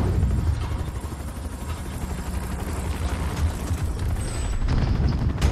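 The chopper gunner helicopter in Modern Warfare Survival throbs in a loud, continuous low rotor rumble with mechanical rattling and faint high whines layered over it, steady throughout.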